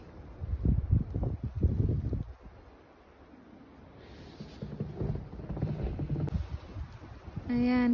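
Wind gusts drive snow outdoors, with roaring bursts early, a quieter lull, then rising buffeting again, and brief indistinct sounds near the end.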